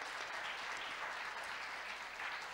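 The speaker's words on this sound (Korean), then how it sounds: "발표해 주신 최지훈 본부장님 다시 한번 뜨거운 박수 부탁드립니다." A conference audience at an annual academic meeting applauds in a steady, dense, sustained wash of clapping with no talk over it.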